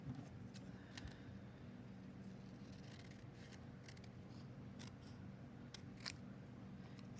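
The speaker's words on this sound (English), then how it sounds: "I'm going to cut the end off there." Scissors snip through a stack of paper strips in a quiet room. There are several crisp, short cuts at an uneven pace, close by and faint overall, with no talking.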